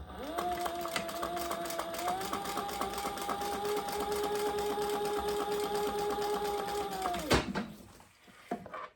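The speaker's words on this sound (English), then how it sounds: "I think I am going to do 1 more row of stitches there" A sewing machine stitches a row along a leather wallet's ID window, running in one steady, close whirring burst for about seven seconds before stopping abruptly, followed by faint handling noise.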